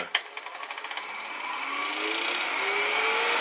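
A hand scraper shapes spinning acrylic on a lathe, starting with a sharp catch and quick rhythmic ticks, then settling into a continuous rising whine and hiss of the cut, close and fairly loud.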